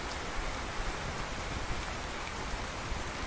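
Steady rain on a Russian Fishing 4 game pond, an even, dense hiss of falling drops with faint pattering accents, constant and close with no voices.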